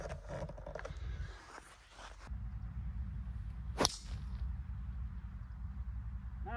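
A golf club swings and strikes the ball in a golf video game: one sharp whooshing crack near the middle, over a steady low game background with no talk.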